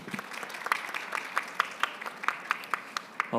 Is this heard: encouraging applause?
yes